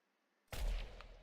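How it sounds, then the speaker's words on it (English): A single loud, close blast from a spaceship gunner seat in the video game Entropia Universe, bursting out of near silence and trailing into a rumbling decay. "Probably should not be shooting on a spaceship."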